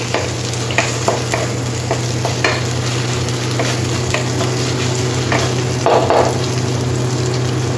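Ginger garlic paste stirred into onions in a hot pan with green chillies, a steady close sizzle with rhythmic scraping strokes of the spoon running throughout, no voices.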